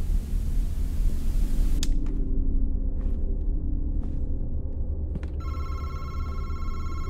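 Telephone ringing in the horror video game Madison, a buzzy electronic ring that starts near the end over a steady low rumble of ambient drone, with a few faint clicks before it.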